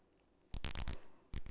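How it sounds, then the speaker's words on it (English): A plastic zip tie is drawn through its ratchet head while fixing an Ethernet cable locking tab: a close, rapid burst of clicking zips lasting about half a second, then a shorter second pull after a brief pause. "just put the zip tie right through there"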